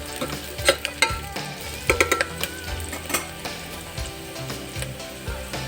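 Ingredients for palak carrot khichdi fry in a pan until golden, with a steady low sizzle and scattered sharp clinks and scrapes of stirring, close and fairly loud throughout.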